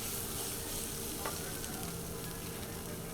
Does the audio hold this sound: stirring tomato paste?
yes